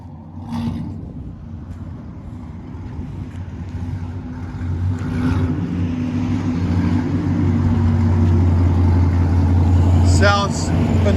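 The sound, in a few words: V8 truck exhaust, Borla, long tube headers, high flow cats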